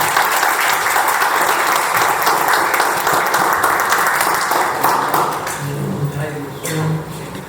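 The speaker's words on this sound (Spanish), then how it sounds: "quiero darle a los dos un fuerte aplauso" Loud applause at a poetry event in the Villena hall of UNEAC, a room full of clapping that thins out near the end as a voice begins speaking.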